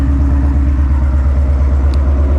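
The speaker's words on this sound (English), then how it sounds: "Wow, I forgot how loud this car is." A 2018 Ford Mustang GT engine idles loudly and up close, a steady deep rumble with an even throb and no speech over it.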